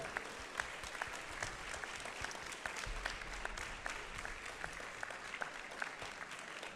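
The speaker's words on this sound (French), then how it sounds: "vous l'applaudissez avant que je vous invite à le faire" At the start of the 24 Heures de Saint-Jo race, a crowd applauds continuously, a fairly faint and even patter of many hands with sharper single claps scattered through it.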